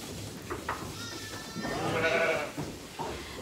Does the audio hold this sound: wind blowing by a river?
no